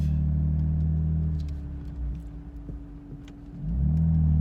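An F82 BMW M4 pulls away, its engine rumbling low, easing off through the middle, then building again with a rising growl, heard from inside the car.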